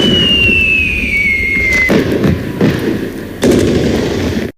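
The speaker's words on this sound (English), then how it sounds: "I will shoot off some fireworks and have a whole lot of fun." Backyard fireworks launched for an American holiday celebration: a whistling rocket rises and then several loud, close pops and bangs follow in quick succession.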